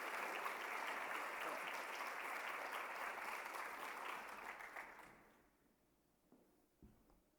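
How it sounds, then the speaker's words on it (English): A conference audience applauds David Kelly at a general session, dense sustained clapping for about five seconds before it thins out and fades into near quiet with a few stray sounds. "So, David Kelly, please rise and let us give you a big round of applause"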